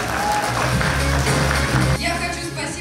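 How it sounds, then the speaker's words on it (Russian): Applause from an audience at a dance school event fills the room over a low, steady tonal hum, and the sound thins and shifts near the end. "Аплодисменты!"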